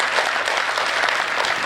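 Brief, steady clapping from an audience after a poem recital on stage holds at a fairly loud, even level throughout, with no one speaking.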